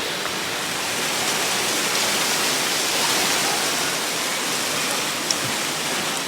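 Steady, loud roar of a waterfall heard up close, a dense unbroken rush of falling water filling the whole clip with no talking.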